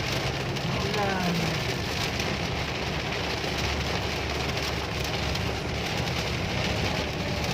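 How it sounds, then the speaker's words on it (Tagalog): Steady rain falls and hisses as a continuous broadband wash, with faint voices beneath it. "Ulan."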